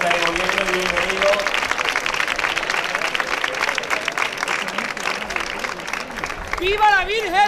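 Steady, dense applause from a crowd at a flower offering to Our Lady of Hope during the La Redondela pilgrimage, continuing evenly for several seconds before a voice begins calling out at the end.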